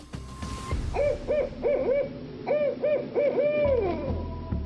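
An owl hoots in a close, clear series of soft, rounded calls repeated in quick groups, heard alone over faint background noise.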